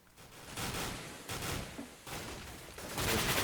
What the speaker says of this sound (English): Forest will find one player with that shotgun, and that's going to give the info for Get Right to get the kill